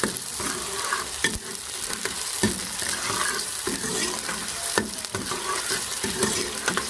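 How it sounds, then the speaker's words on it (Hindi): Sliced onions hiss and crackle loudly in hot oil as they are stirred and fried in a pan for an egg and potato curry, with repeated sharp scrapes and knocks from the spoon against the pan. "अभी हमने स्लाइस किया हुआ प्याज ऐड कर देंगे। इसमें लहसुन नहीं पड़ता ना अदरक पड़ती है"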